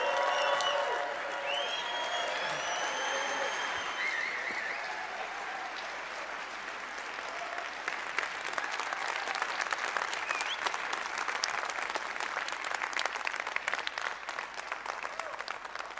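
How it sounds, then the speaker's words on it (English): A large conference crowd applauds a closing keynote speaker in Switzerland, sustained loud clapping with scattered cheers that swells again midway and keeps going throughout. "Cardano, please give a huge round of applause to your closing keynote speaker"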